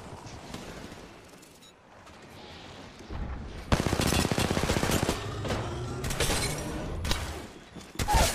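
Gunfire in the battle royale game Apex Legends, with distant shots at first, then loud, rapid automatic bursts close by that continue steadily to the end.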